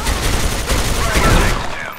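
Rapid gunfire in the video game CS:GO, a dense cluster of sharp shots over about two seconds, close and loud, with a voice speaking over it.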